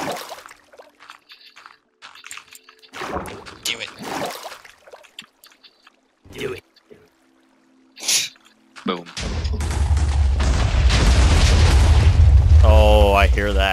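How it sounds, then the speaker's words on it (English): Booming TNT explosions in the Minecraft video game erupt in a sustained, loud, rumbling blast during the latter part, after scattered thuds and pops, while players talk over the game sounds. "Oh, look, more explosions."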